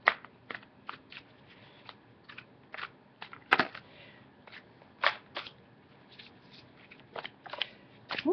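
Oracle cards being shuffled by hand, a run of quiet, crisp riffling snaps and soft slaps coming in irregular bursts, close up and without talk.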